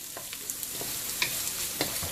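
Onion is stir-fried on medium to high heat in a hot pan while making baby corn Manchurian, with a steady close sizzle and several scraping stirs of a utensil against the pan, and no talking.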